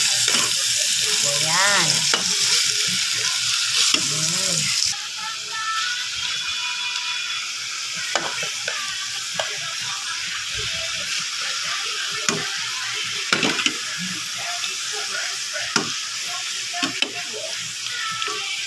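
Pork chops for adobo fry in a pan, a loud hissing sizzle that softens after a few seconds and carries on with scattered clinks and scrapes, with a brief spoken word.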